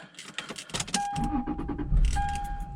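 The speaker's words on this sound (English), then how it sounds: "So let's just start the car, make sure it's in neutral, and go ahead." Keys jangle, then a Lexus IS300 engine with aftermarket exhaust and cold air intake turns over and settles into a low, steady idle rumble while a dashboard chime tone sounds.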